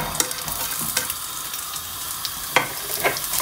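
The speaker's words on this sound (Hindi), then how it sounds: "इनको हमने सोते करना है थोड़ा सा प्याज नरम होने तक" Onion, garlic and ginger sizzle steadily in hot oil in a pan for a Punjabi chicken gravy, a dense continuous hiss broken by a few sharp stirring clicks, close and alone with no voices.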